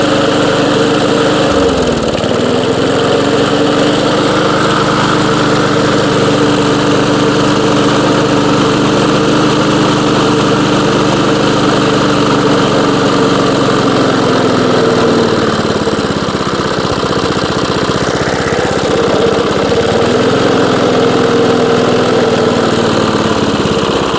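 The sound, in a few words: 1982 JCPenney lawn mower engine running and idling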